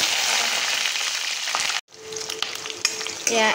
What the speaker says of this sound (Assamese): তেল দি দিলো আৰু ইয়াতে অলপমান এয়া পাঁচফোৰণ দি দিছো